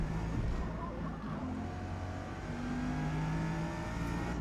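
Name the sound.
Bugatti Veyron braking and downshifting, Forza Motorsport video game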